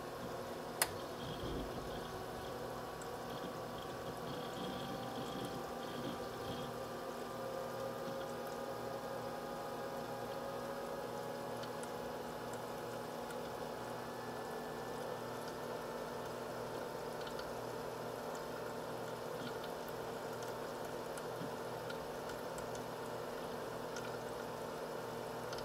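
An H220 liquid CPU cooler pump runs at a steady 2947 RPM inside a computer, making a faint, constant low hum with a soft whine and light ticking throughout.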